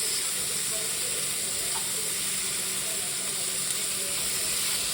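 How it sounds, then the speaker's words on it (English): Ground beef browning with carrots and onions for a cheese-infused Bolognese gives a steady, close sizzle that fills the whole stretch, with a faint clink or stir now and then and no talking. "Cook that with the carrots and onions."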